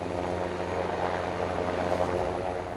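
A French Air Force Super Puma helicopter on rescue duty over Corsica drones loudly and continuously, a steady turbine roar layered with a fast rotor throb and no pauses.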